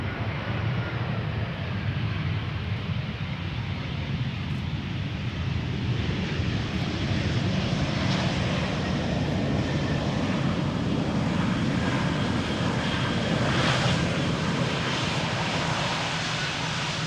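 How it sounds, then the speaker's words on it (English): A Croatia Airlines airliner arriving at Amsterdam Schiphol from Zagreb, a steady loud jet engine roar filling the whole stretch without pause. "Croatia Airlines, flight 450, arriving from Zagreb"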